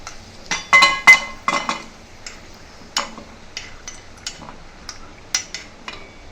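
Fried dry fruits, golden-brown cashews and raisins for a semolina sheera, are scooped from a hot kadhai into a bowl, giving a run of sharp metallic clinks and scrapes, close and clear, spaced irregularly with quiet gaps between.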